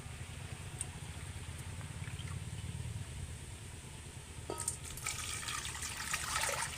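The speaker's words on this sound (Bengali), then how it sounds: "এবার আমি গামলিতে জল দিয়ে দেব" Water poured into a large bowl holding flour dough, a steady low rushing pour that turns into a brighter splashing and filling sound toward the end, close and alone with no talk.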